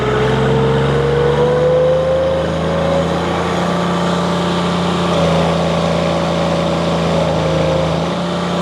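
A Wolfe Ridge IC-16 infeed hopper running at wide-open throttle, a loud, steady mechanical drone with a constant hum and a faint rising whine, continuous throughout with no talk.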